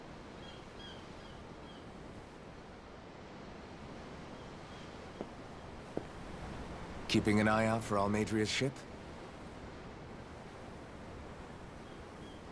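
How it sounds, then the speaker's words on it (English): Ocean waves wash in a steady, soft roar with wind across the scene in Tales of Arise, a game setting on the water near a castle; a voice speaks briefly partway through over the surf. "I'm looking at the ocean. The ocean? Yeah. The waves."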